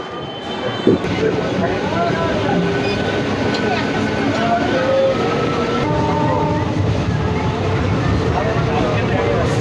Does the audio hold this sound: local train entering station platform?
yes